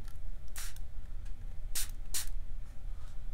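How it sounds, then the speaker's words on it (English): Several quick pumps of a handheld spray bottle misting water onto watercolor paint, short soft hissy bursts, one faint and two sharper, close by over quiet room noise. "Let's start to spray it."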